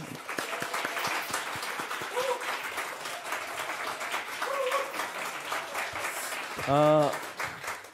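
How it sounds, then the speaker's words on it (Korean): Church congregation applauding welcomed missionaries during a Sunday service, a broad steady clapping from many hands with scattered voices underneath, followed near the end by a short burst of sound. "우리 파송 선교사님들 향해서 우리 박수 한번 할까요?"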